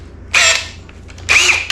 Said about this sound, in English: Now, I need to drill something a lot bigger.